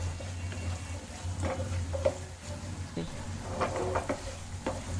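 Spices frying in oil for an egg korma are stirred in a pan, giving a steady sizzle with scattered scraping clicks of the spoon and a low hum underneath.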